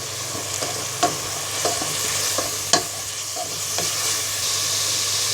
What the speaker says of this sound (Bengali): এবার দিব এক টেবিল চামচ পরিমাণ রসুন বাটা এবং এক টেবিল চামচ পরিমাণ জিরার গুঁড়ো